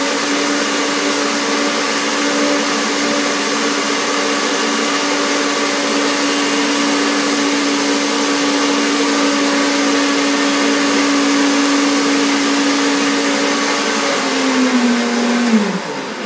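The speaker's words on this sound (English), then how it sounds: "on top of liquid cacao butter, and blend it again." A blender runs continuously, whirring through cashew cream with melted cacao butter in a steady, loud drone that winds down and stops near the end.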